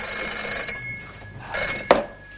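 Old landline telephone bell in a late-1970s Australian home rings in short repeated bursts, fairly close, with a louder burst near the end and no talk over it.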